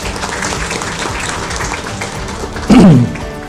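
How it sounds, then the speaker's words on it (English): Audience applause greeting visiting accreditation guests at an Islamic university campus, continuous clapping at steady level with a brief louder burst near the end. "very happy applause."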